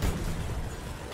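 Grenade explosion in the Battlefield 2042 video game, a heavy low boom at the start that rolls into a dense rumbling tail and fades slowly.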